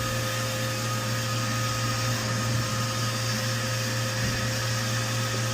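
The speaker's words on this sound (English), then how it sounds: "Turn that off, vacuum up what we got." A vacuum cleaner with a nearly full bag sucks up debris from drilling a bowling ball, a steady, loud droning roar with a constant low hum that runs throughout without any speech.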